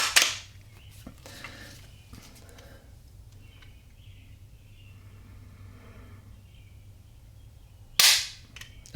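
Sharp dry-fire click from the trigger of an empty Ruger American .270 Winchester bolt rifle in a Boyds At-One thumbhole stock, one crisp snap at the start and another near the end over quiet room hum.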